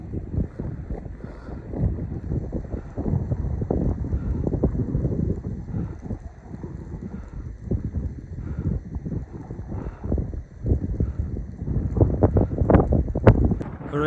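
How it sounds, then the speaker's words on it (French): Strong Alaskan wind buffets the microphone in heavy, continuous low rumbling gusts that swell and fade, growing harsher toward the end, with faint talk buried beneath. "je sais pas si vous pouvez m'entendre avec tout le vent qu'il y a"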